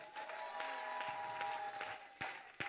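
A church congregation applauding and acclaiming Jesus during a worship service, steady clapping throughout with a few louder sharp claps near the end and a held musical tone underneath.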